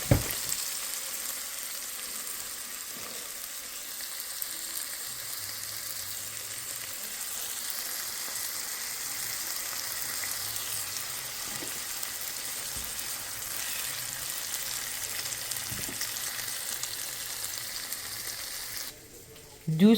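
Chopped onion with a little salt frying in a pan gives a steady, close sizzle that crackles on continuously for the whole stretch, with faint clinks of stirring and no voices.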